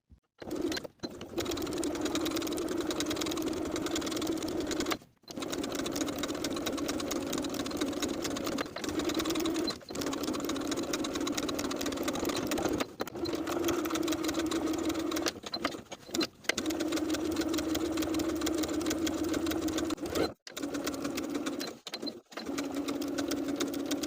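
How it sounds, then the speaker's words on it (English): Sewing machine top stitching around the curved edge of a denim jacket's Peter Pan collar, a steady mechanical whir running in long bursts with several short pauses where the stitching stops and restarts. "I'm also going to top stitch the curved top edge of the collar all the way around with a 1/4 inch seam allowance"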